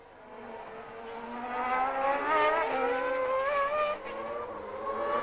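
Formula One cars racing at the 1990 San Marino Grand Prix: high-pitched engines whine and rise in pitch as they pass, growing louder toward the middle and staying close, with overlapping car sounds.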